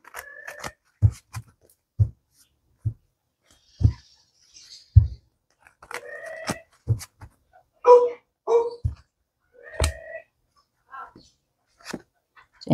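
Indoors, a dog barks outside, with sharp, repeated barks about once a second, some louder and some fainter, mixed with bursts of a person's speech and occasional scraping noises.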